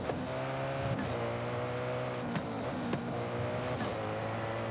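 A Bugatti W16 engine in Forza Horizon 5 drones loud and steady during a race, its revs rising and falling through several quick gear shifts, with no talk over it.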